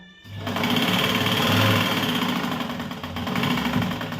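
A sewing machine stitches blouse fabric right up close, starting suddenly and running in a fast, continuous mechanical whir with slight speed swells throughout.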